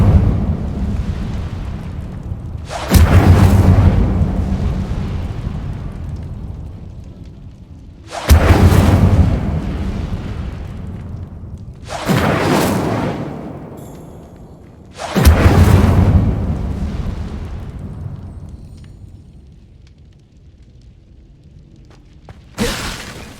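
Incendio fire spells cast in Hogwarts Legacy, four heavy booming blasts spaced a few seconds apart, each a loud whooshing burst that rolls off slowly, with a fifth starting at the very end.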